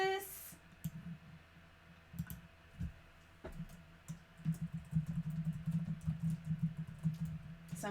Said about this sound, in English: So I'm just typing to make sure.